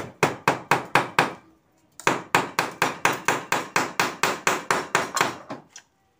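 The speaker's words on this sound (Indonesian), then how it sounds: "saya pakai paku kemudian kita masukkan ke lubang yang sudah kita bikin tadi" Nails hammered into pre-made holes: two runs of quick, evenly spaced, loud metallic strikes, about eight and then about fourteen blows, separated by a short pause.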